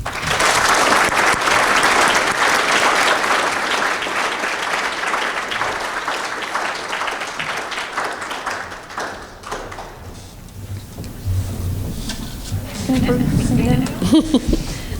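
Sustained applause from an audience at the Kingswood Turnaround Achievement Award ceremony, dense and loud for about nine seconds, then thinning and fading as a speaker's voice begins at the lectern.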